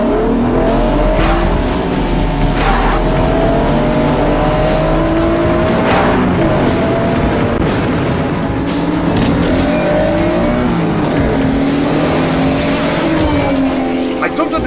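Race cars roar past loudly one after another, engines whining and rising and falling in pitch, with tires squealing amid constant track noise.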